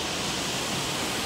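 A car wash sprays rinse water over a car in a continuous, loud, broadband hiss with no break and no voices.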